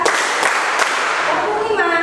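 Students in a classroom clapping game clap together in a few sharp, slightly ragged bursts, one clap followed by a quick group of claps, over a busy murmur of young voices.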